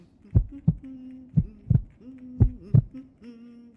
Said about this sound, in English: That was somebody doing the heartbeat.